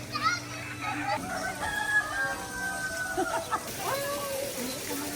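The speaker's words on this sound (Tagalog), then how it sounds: "Ito yung mga manok ko." Roosters crow in drawn-out calls while hens cluck nearby, mixed with children's voices and background chatter.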